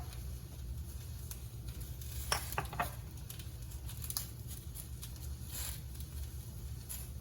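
Kale sautés with garlic in a pan, giving a soft, low sizzle with scattered light crackles and pops, faint and fairly steady throughout.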